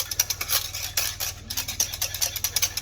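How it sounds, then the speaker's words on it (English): A whisk beats grated cheese into a white sauce in a pan, making a fast, regular scraping and tapping rhythm, moderately loud and close, over a low steady hum. "Get my whisk and whisk it into the white sauce."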